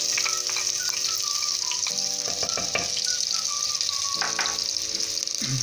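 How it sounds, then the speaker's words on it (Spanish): Chopped onion frying in a splash of oil, a steady loud sizzle with occasional crackles and light utensil clinks throughout, no voices. "un chorro de aceite, en el cual vamos a freír nuestra cebolla"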